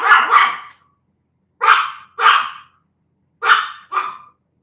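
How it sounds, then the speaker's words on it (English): A dog barks in two quick pairs and a single bark, sharp and fairly close, with silent gaps between bursts. "sorry about the dog barking."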